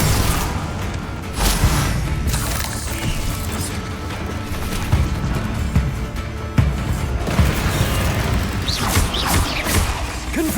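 Confringo and Bombarda spell blasts burst in Hogwarts Legacy, a run of booming impacts and crashing thuds over a dense, continuous battle din, loud and close.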